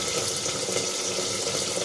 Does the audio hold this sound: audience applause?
no